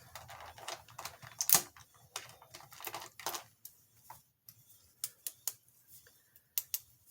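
Gel pens from Hobby Lobby scratch and tap across paper in a close, quiet series of short irregular strokes and taps, with no voices.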